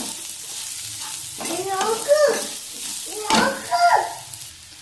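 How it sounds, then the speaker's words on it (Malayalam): Masala of coriander powder, chilli powder and salt sizzles and is stirred in a pan for a tuna roast, a steady close frying hiss with a voice speaking over it. "കുറച്ച് മല്ലിപ്പൊടി, അതുപോലെ തന്നെ കുറച്ച് മുളക് പൊടി, അല്പം ഉപ്പ് എന്നിവ ചേർത്ത് നന്നായിട്ട് ഒന്നുകൂടെ വഴറ്റുക"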